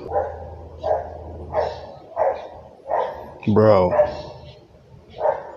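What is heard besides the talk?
dog barking in the background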